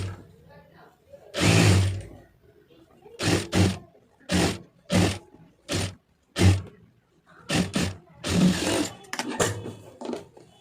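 A sewing machine stitches a blouse lining in a series of short, loud bursts of rapid mechanical whirring, separated by brief pauses, fairly close up.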